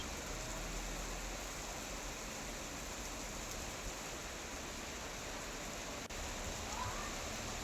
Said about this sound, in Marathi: गारांची दृश्य आपण स्क्रीनवर पाहतोय